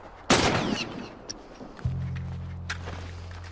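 A loud burst of gunfire cracks early in The Last of Us, followed by scattered fainter shots and a low steady hum.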